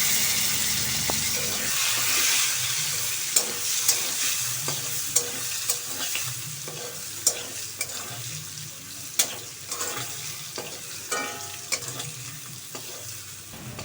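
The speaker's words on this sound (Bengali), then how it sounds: "কালো জিরেটা দিয়ে তারপরে আমি মান কচুগুলো দিয়ে দিয়েছি। দিয়ে এবার আমি নাড়তে থাকবো।" Taro pieces frying in hot oil in a wok with black cumin, stirred with a utensil: a steady loud sizzle with repeated scraping strokes, close and without talk.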